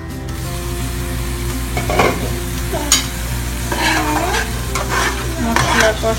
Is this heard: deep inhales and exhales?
no